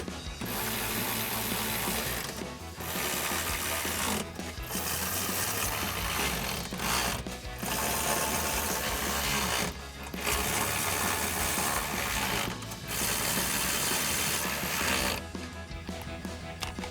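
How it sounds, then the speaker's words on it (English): A ratchet with a 13mm socket tightens nuts and bolts on pickup running board brackets, giving fast repeated clicking bursts separated by short pauses, close and loud. "take a 13mm socket, tighten down your nuts and bolts"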